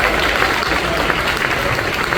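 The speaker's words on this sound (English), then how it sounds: "How about a round of applause for this fabulous band behind" Audience applauding a jazz band on stage, dense clapping held at an even level throughout, with some voices mixed in.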